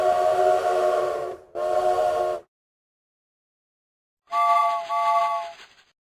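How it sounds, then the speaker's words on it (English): Inside a video game, a train whistle sounds twice in two long, loud tonal blasts, then after a silent gap comes a second paired blast, brighter and higher, alone with no talking. "Oh, a fucking train."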